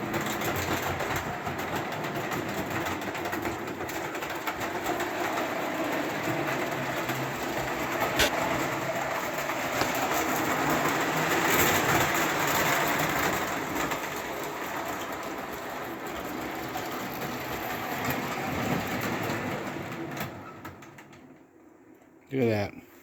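A Marx 150 toy locomotive runs on O gauge track with a steady rumbling, clicking rattle that stays close and fairly loud for most of the stretch. It fades near the end, and a voice talks over it.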